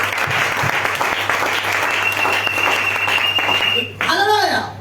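A church congregation applauds loudly and steadily for about four seconds, a dense continuous wash of clapping, then it breaks off as a shout of praise rings out.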